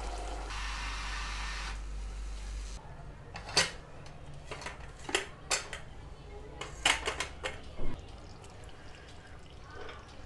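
A pressure cooker lid comes off after cooking mutton stew: a short steady hiss, then scattered metallic clanks and clinks of the lid and pot, fairly quiet.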